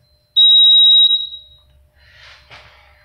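A single loud, piercing electronic trouble beep from a smoke detector signalling a needed software update rings steadily for under a second, then trails off, followed by faint rustling.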